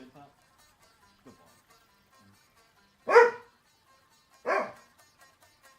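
A pet dog named Holmes lets out two sharp, close barks indoors, spaced about a second apart, amid an otherwise quiet room with a brief word from a man just before.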